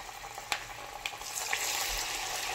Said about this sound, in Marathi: इथे तेल आपल्याला मीडियम टू हाय फ्लेम वरती तळून घ्यायचे आहे